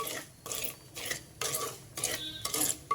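A spoon scrapes and stirs millets roasting in a pan over a low flame, soft, rhythmic rasping strokes repeating every half second, close and quiet with no talking.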